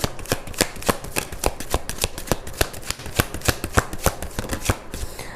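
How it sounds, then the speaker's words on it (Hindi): Tarot cards are shuffled and drawn by hand, close crisp riffling slaps in a quick, fairly steady rhythm of about twenty sharp hits, with no talk over them. "एक कार्ड निकालती हूँ एडवाइस के तौर पे।"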